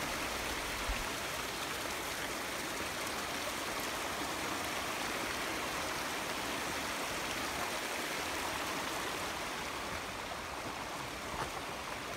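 A small stream crossing a trail in Bells Canyon flows steadily nearby, a constant babbling wash of water with no other sounds.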